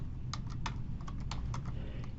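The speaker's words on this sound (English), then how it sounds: "immediately we start typing what the dependent variable is" Steady typing on a computer keyboard while entering a chart's axis label, with crisp key clicks in an irregular run close to the microphone over a constant low hum.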